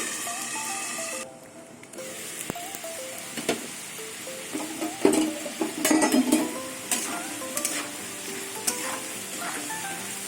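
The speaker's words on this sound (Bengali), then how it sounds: "এবার আলুগুলো দিয়ে দেবো আলু ঢেকে ঢেকে ভেজে নেব" Potatoes fry in a pan for a fig vegetarian dish, a steady close sizzle with bursts of frying crackle and occasional stirring scrapes throughout.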